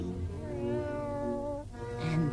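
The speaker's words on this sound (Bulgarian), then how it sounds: "И онази котка, която е абсолютно отвратителна, отблъскваща, отчаиваща, омразна." A cat gives a long, drawn-out, wavering meow close by, the cry sliding in pitch and sustained for a couple of seconds.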